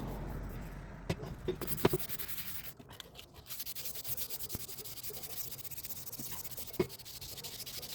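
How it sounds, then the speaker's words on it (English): Steady scratchy rubbing of sanding by hand, close by, with a few sharp knocks and clicks scattered through. "I'm out here sanding this."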